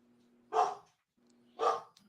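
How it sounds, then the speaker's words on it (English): A dog gives two loud, sharp barks about a second apart, close by and clear, with near silence between them. "somebody's here. My dogs are going crazy"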